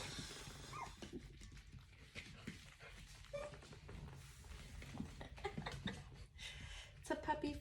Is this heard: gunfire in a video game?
no